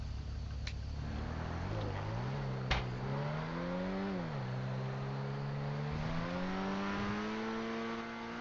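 A car driving in the game GTA V: a steady engine drone that rises and falls through gear changes as it accelerates, continuous and fairly close.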